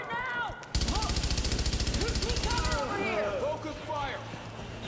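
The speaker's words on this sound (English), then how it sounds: "Some shooting." Rapid automatic gunfire from The Division video game, a loud steady burst of evenly spaced shots lasting about two seconds, then scattered lighter shots with voices chattering around it.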